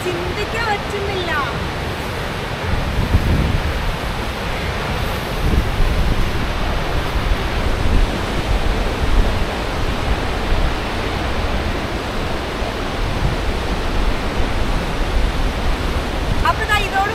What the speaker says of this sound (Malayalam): ഈ ഒരു ഫോൾസിൽ നിന്ന് മാത്രം വരുന്ന വാട്ടറാണ് കേട്ടോ.